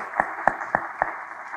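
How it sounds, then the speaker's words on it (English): Audience applause at a speech by a US ambassador on Indo-Pacific cooperation, heard as a short run of distinct, evenly spaced claps, fairly loud and close, with no talk over it. "Please give her a round of applause."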